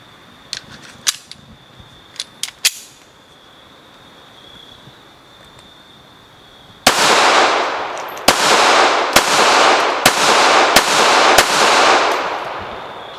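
Remington RM380 semi-automatic .380 pocket pistol fired outdoors: a string of six loud, sharp shots at a steady pace, preceded by a few quieter handling clicks.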